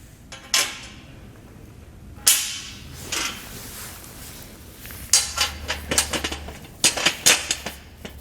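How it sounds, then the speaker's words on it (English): Bolts dropped into the frame holes of a Malone EcoLight Sport trailer. The metal clinks are sharp and scattered, a few isolated ones at first and then a quicker cluster toward the end. "I'm going to drop the bolts down in there on each one of these."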